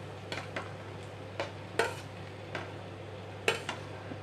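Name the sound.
stirring protein mix into fried vegetables in a pan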